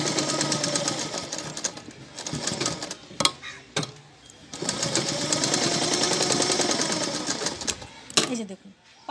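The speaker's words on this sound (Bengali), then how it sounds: "দিয়ে এভাবে সেলাইটা করে নেবেন।" A sewing machine runs in quick rhythmic bursts while stitching a turned paw piece for a handmade toy, pausing briefly between runs, with someone talking over it.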